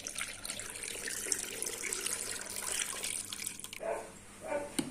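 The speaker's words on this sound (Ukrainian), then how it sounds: "Тому, щоб їх розморозити, заливаємо холодною водичкою." Cold tap water runs steadily into a bowl of frozen rabbit tongues to thaw them, a close, continuous splashing stream with a few shifts in flow near the end.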